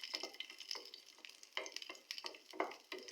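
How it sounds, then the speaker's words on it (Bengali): Raisins and nuts fry in a pan for sweet vermicelli, giving a close, quiet sizzle broken by rhythmic scraping strokes as they are stirred, with no talking. "বাদামি রং করে ভেজে নিব।"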